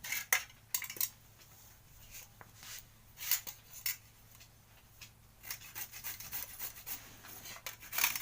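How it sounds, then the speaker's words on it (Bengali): Carrots rubbed against a hand grater over a metal plate, giving intermittent scraping and rasping strokes in short bursts with pauses, close and fairly quiet, no talking. "এবার এগুলোকে ঘষে নেবো এই থালাতে এক সাইড করে ঘষবো এটা দিয়ে ঘষবো"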